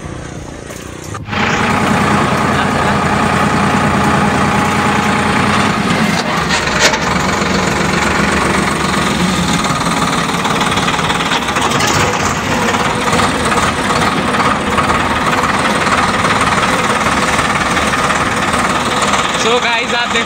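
A tractor drives across a farm field where organic manure is being spread, its engine starting up and then running loud and steady at close range for the whole stretch, with a person talking over it.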